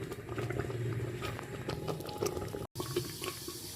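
Rice cooking down in milk for pongal bubbles in a pot with a soft, steady simmering patter, fairly quiet and continuous, broken by one brief dropout near the end.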